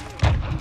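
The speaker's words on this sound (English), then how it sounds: "Who's shooting at me?" Game gunfire in Call of Duty Modern Warfare 2 (2022), a short burst of thudding shots with heavy low boom, fairly close, over steady background noise.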